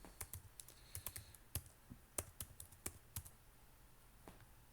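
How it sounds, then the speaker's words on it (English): Keys clacking on a computer keyboard in short, uneven bursts of crisp taps over a quiet room hum, nearby and clearly audible. "So let me just type in domain"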